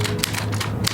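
Typewriter keys struck in quick succession, four or five sharp clacks in about a second over a steady hum, close and alone with no talk.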